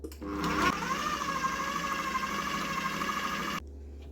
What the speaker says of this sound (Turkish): şimdi güzelce krem şeklini alana kadar robotumdan geçiriyorum